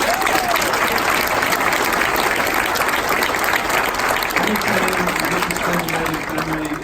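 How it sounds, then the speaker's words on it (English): Audience applause at a Northeastern speech event honoring staff, broad steady clapping filling the room for several seconds with crowd noise, loud and sustained throughout. "just a quick round of applause"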